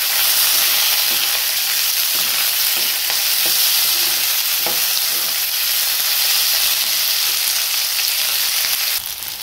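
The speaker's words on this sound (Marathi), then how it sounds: "मिरची, याला छान परतून घ्यायचं आहे।" Green chilies sautéing in a hot pan give a loud, steady hiss and sizzle, close up and continuous, with faint stirring clicks beneath and no voices.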